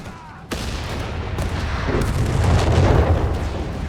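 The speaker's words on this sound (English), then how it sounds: "Automatic fire is his response here." Sustained automatic gunfire and rumbling battle noise from a Company of Heroes 3 match pairing Wehrmacht against US Forces, starting abruptly with a dense, loud wash of shots and booms that builds and continues.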